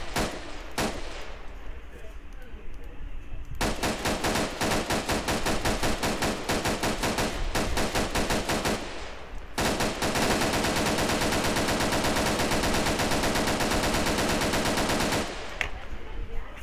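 Ultimax machine gun firing in Arma 3, two long sustained bursts of rapid automatic fire after a few shorter shots, loud and close.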